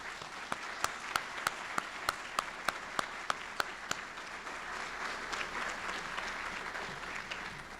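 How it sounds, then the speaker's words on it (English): A ceremony crowd applauds the Navy Honor Guard and Navy Band at a Nixon birthday event, opening with sharp, evenly spaced single claps that swell into a dense, sustained round of clapping. "Please join me in a round of applause for the Honor Guard and the Navy Band"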